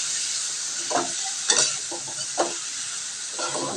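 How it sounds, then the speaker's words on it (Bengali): Stirring a ground paste of cumin, chilli, ginger, dried chilli and tomato in a hot pan for katla fish curry, with a steady sizzle and scraping strokes that come in bursts. "এবার দিয়ে এইভাবে নাড়াচাড়া করব"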